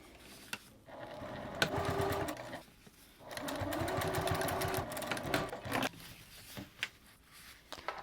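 Sewing machine stitching the top seam of a fabric hip bag, two close bursts of rapid mechanical whirring separated by a short pause, then scattered handling clicks and taps as the work is adjusted.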